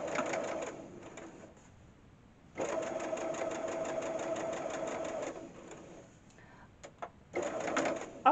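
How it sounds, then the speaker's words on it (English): A sewing machine stitches a star quilt block in a few bursts: a brief run, a pause, a longer steady whirring run, then short needle taps and a final quick burst, close by with no talk. "Drop my needle, a couple of stitches,"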